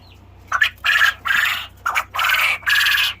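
A bout of crowing from quail roosters: about five harsh, squawky bursts in quick succession, loud and near, with brief gaps between them and no voices.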